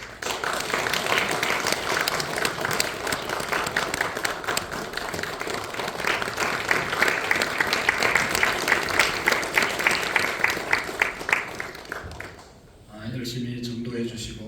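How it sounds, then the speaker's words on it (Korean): A church congregation at a Korean Sunday worship service claps together for about twelve seconds, a dense patter of hands with voices mixed in, before the applause drops away abruptly near the end. "우리 박수 하겠습니다"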